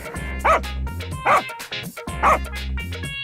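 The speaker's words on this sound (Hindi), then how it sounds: "कुत्ता सनकीलाल के पास जाकर जोर से भौंकने लगता है।" A dog barks loudly three times at a steady pace, with a low background hum between barks.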